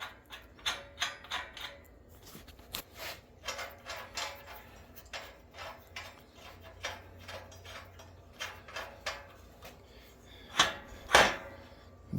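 Loosening the mechanism on a homemade sheet metal bender, a run of close mechanical clicks and ratcheting taps in an irregular rhythm, ending with two louder metallic knocks.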